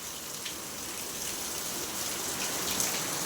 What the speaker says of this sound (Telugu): పడింది వర్షం. ఈరోజు బాగా పడుతుంది.